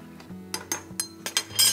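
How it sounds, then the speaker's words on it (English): A utensil clinks and taps against a pot while green onions are stirred into mushroom gravy, several light, spaced metallic knocks, faint and close, with a brighter scrape at the end. "I am going to put in some of my green onions and stir that in"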